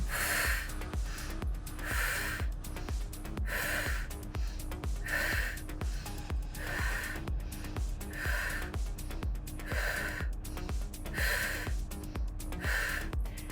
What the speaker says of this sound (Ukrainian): Робимо вдих, глибокий. Тут тут дозволяємо зробити глибокий вдих. І видихаємо.